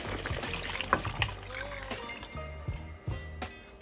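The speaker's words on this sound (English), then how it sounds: "now we're gonna add about 4 cups of hot water" Hot water pours steadily into a pot, a continuous splashing trickle over a low humming background.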